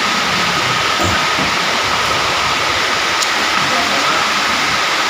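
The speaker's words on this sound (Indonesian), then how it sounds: "ini hujan tambah keras lagi di luar" Heavy rain pours down outside a roadside eatery, a dense, steady roar of falling water that stays loud and unbroken throughout with no voices.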